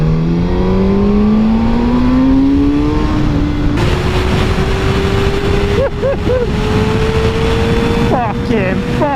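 Kawasaki ZX6R sport motorcycle accelerating hard, engine pitch climbing steadily through the gears with wind rush, loud and close throughout.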